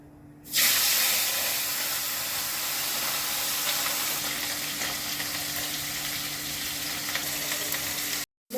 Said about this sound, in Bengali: এটা সর্ষের তেলে করবো প্রথমে মাছগুলো ভেজে নিচ্ছি